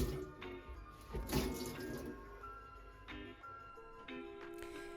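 Tap water runs over a kitchen surface during a rinse, a faint, steady splashing flow with a few small clinks and knocks mixed in.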